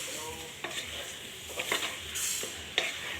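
Chicken fry being stirred in a pan with chili powder, salt and cumin powder, a steady soft sizzle with a few sharp scrapes and clinks of the spoon against the pan.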